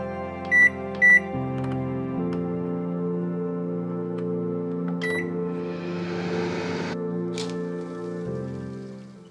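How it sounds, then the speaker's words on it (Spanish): A microwave oven running at about 500 watts heats folded taco shells, its steady low hum and drone continuing for several seconds, opening with a couple of short beeps and some crackling noise midway, close and alone. "vamos a poner esas tostaditas en forma de taco en el microondas, aproximadamente 500 watts por un minuto"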